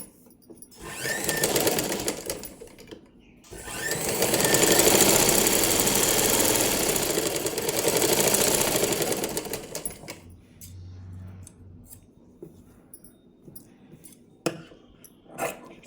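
A sewing machine stitches cloth in long, loud whirring runs with a steady rapid needle rhythm, pausing briefly, then stopping before quieter handling sounds and a few light clicks.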